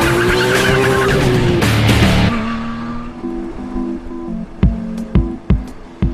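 A Porsche 911 race car fitted for street use skids with a loud, drawn-out tire squeal and engine roar. It settles into a quieter, wavering drone cut by several short, sharp chirps and squeaks.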